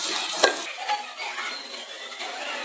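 Chopped onions fry in hot oil while a utensil stirs and scrapes the pan, with a sharp metallic clink near the start over a continuous sizzle.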